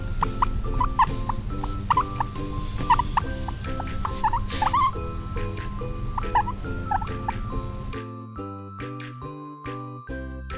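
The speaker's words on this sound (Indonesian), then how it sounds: "Guinea pig." A guinea pig squeaks repeatedly in short, bright, pitched calls over a jingly background melody. The squeaks stop near the end and only the tune continues.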